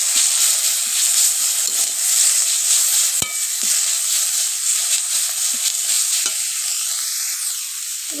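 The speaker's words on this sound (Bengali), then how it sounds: "এবার ভালো করে একটু খুন্তি দিয়ে নাড়িয়ে নিলাম।" Onion paste, slit green chilies and a little salt fry in a pan as a spatula stirs them, giving a steady close sizzle with one sharp scrape partway through and softer scrapes after.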